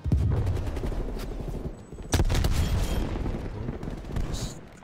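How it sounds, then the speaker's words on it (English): Gunfire in the Call of Duty: Cold War beta during a Hardpoint multiplayer match: dense, loud bursts of rapid shots from a gun with a fairly slow fire rate, layered with heavy booms and a sharp blast midway. "The fire rate on this gun's a bit slow."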